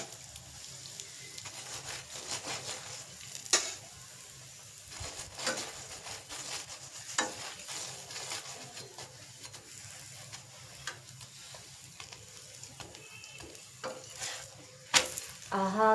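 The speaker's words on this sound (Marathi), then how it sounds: "छान तेल लावून भाजायची मस्त" Aloo paratha roasting with oil on a pan, a continuous low sizzle with repeated spatula scrapes and clicks scattered through.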